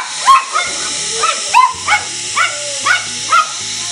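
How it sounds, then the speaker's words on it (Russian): Several dogs bark in a quick run of sharp, distinct barks spaced through the stretch, close and loud, with a faint hiss underneath. "Собаки лают"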